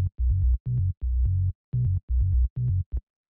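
House-style bass line of short, low synth notes in a choppy rhythm with brief gaps, about eight hits over a few seconds, alone and fairly loud.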